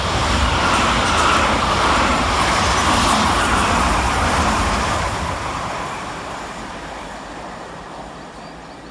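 A Class 387 electric train, 387222 in a pair of units running from Brighton to London Victoria, rushes through Burgess Hill railway station. A loud, close roar of wheels and air slowly fades as the train draws away.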